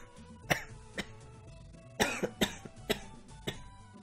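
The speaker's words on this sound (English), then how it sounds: "Yeah, I still have the cough." A man coughs repeatedly, with sharp separate bursts and a quick double cough in the middle, close to the microphone over quiet background sound.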